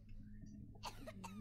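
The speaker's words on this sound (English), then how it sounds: "Someone's coughing." Coughing from someone nearby during indie game play, two or three short bursts over a steady low background hum.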